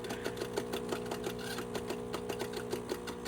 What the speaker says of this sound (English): What you're hearing is basically the brew unit